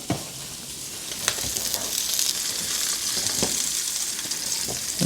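Salmon fillet frying in oil in a pan gives a steady, close hiss of sizzle with a few sharper crackles and pops scattered through. No one speaks.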